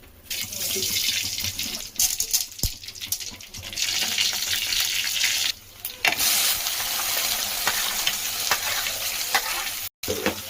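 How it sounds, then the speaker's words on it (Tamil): Spices temper in hot oil for okra pachadi, sizzling and crackling while a utensil stirs and scrapes the pan, with a running tap and kitchen clatter mixed in and a brief gap near the end. "இப்போ இதை தாளித்து பச்சடி செஞ்சிடலாம்."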